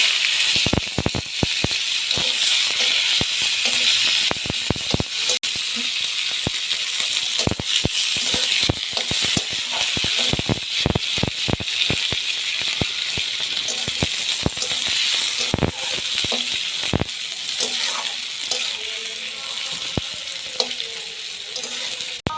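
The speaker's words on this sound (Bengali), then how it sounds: "এই যে পেঁয়াজটা ভাজা হয়ে গেছে" Chopped onion with bay leaf, cumin seed and dried chilli frying in oil for a mutton curry, a close, continuous sizzle broken by frequent sharp clicks and scrapes of stirring, with no talk.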